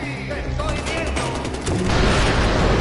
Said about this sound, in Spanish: Que va a haber tiros aquí.